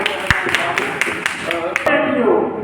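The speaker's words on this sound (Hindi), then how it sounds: "ताली बजा दीजिए।" Clapping from the audience at a rural journalists' association award ceremony, a handful of distinct, fairly loud claps in an uneven rhythm mixed with voices, then talking takes over.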